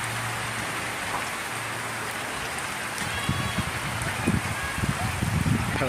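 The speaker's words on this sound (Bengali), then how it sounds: "ইচ্ছা করে আমি বৃষ্টিতে ভিজাইতেছি ছাগলগুলোরে।" Steady rain pours down on goats outdoors in a heavy downpour, a dense continuous hiss with scattered louder drops and patters growing stronger toward the end.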